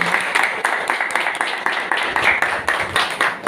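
An audience applauds at a singing showcase, a steady burst of clapping from many hands that carries on throughout with brief rhythmic peaks.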